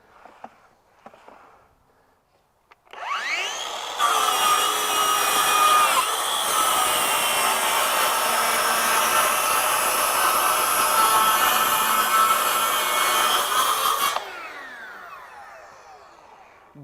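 A Ryobi PTS01 18V cordless 6-1/2-inch track saw spins up, runs a steady loud cut along its guide track for about ten seconds, then winds down, with brief handling clicks before and after.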